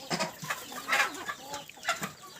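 Country chickens cluck in a run of short, moderately close calls spaced unevenly, with no other voices over them.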